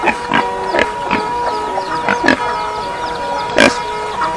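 Pigs grunting at a hill village farm where chickens are also kept, a few short grunts spaced irregularly over steady background hum and chatter of the farmyard.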